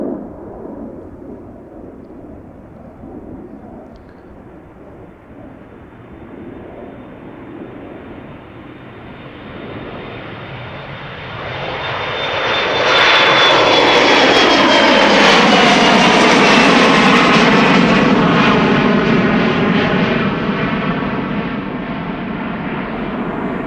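A special-livery AirBaltic airliner departing Amsterdam Schiphol for Tallinn builds from a distant whine into a loud, close, roaring takeoff thunder that sustains for several seconds before easing slightly.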